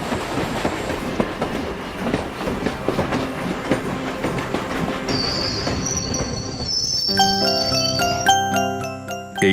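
A train departing as a sound effect in an audio drama: steady rolling rumble and clatter of wheels on rails, then bright metallic squeals and ringing tones near the end, loud and close, with no voices.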